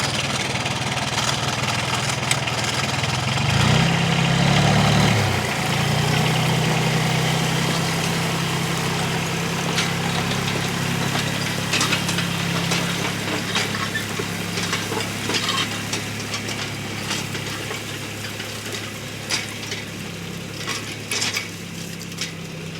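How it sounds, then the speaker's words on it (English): A twin cylinder compressor on a fencing trailer runs steadily, a loud continuous mechanical drone with a low hum and intermittent clatter, heard alone without talk. "The twin cylinder compressor fills up a tank in 11 seconds"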